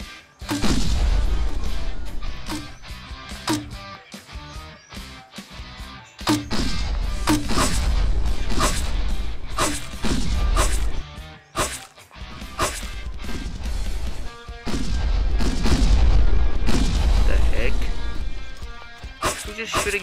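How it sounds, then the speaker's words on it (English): Grenade launcher fire in Team Fortress 2 on a mobile emulator, with repeated loud sharp bursts and crashes coming in irregular clusters, mixed with game noise and a voice talking over it. "Just shooting grenade."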